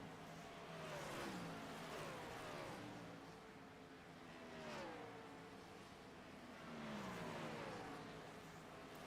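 Race car engines on pit road during an ARCA race at Dover in a racing video game, several cars accelerating and passing in repeated rising and falling sweeps, moderately loud against a constant rumble.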